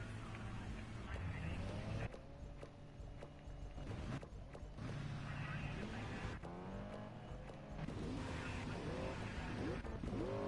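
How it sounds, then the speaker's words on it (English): Time attack race cars lap the Donington Park circuit, with engines revving and droning as they pass at a distance. Rising and falling pitch runs through the steady noise, and voices talk underneath. "the track day B car is the first out on circuit"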